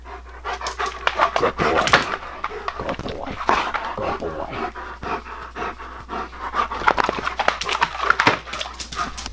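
A dog pants rapidly and heavily close by, with quick rhythmic breaths, occasional whimpers and snuffles throughout, and no talking.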